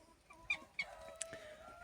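Domestic geese give a few short, faint honking calls nearby in a farmyard, brief squawks spaced out against quiet background with no talking.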